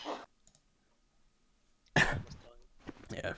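A person coughs near the microphone, one brief burst at the start and a harsher throat-clearing cough later, separated by quiet.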